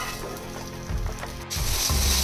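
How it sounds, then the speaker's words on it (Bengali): Tomato, green chili and ginger frying in oil left over from frying paneer, a close steady sizzle that swells in bursts as the pan is stirred, with a brief gap of near silence midway. "এর মধ্যেই আমি তেল দিয়ে টমেটো, কাঁচা লঙ্কা, আদা সব ভেজে নেব"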